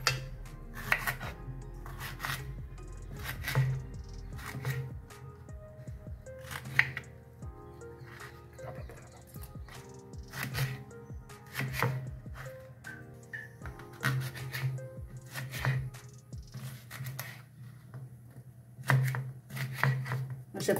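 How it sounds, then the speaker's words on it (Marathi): Eggplants are chopped on a cutting board with a knife, a long run of crisp, irregular cuts close by, with faint talk at times. "तर वांगे चिरून घ्यायचे 3-4."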